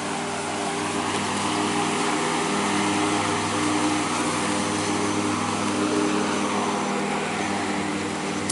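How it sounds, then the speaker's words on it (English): A lawn mower cutting grass beside thick woods, its engine a steady, loud, unbroken drone that stays even throughout with no voices. "Got a gentleman mowing the grass."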